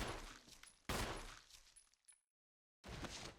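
Gunfire in a Resident Evil video game comes as a couple of sharp, loud shots with rumbling impacts and debris. A short stretch of silence follows before the noise picks up again.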